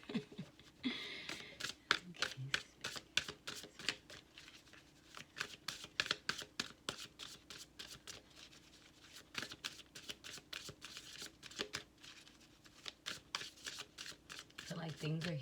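Tarot advice cards shuffled by hand in a rapid run of crisp, close riffling slaps and flutters, repeating in quick bursts throughout at moderate volume, with a voice talking faintly in the background.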